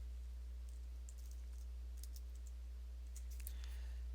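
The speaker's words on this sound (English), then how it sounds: "I can just type capital S, capital C, and then hit enter" Keys on a computer keyboard click faintly in short bursts as someone types a quick shortcut, over a steady low hum.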